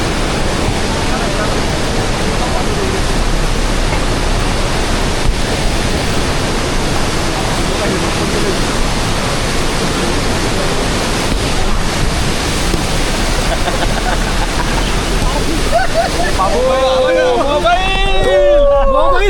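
Water rushes across a mountain road near Muktinath in a loud, continuous roar mixed with wind buffeting, while voices talk over it toward the end.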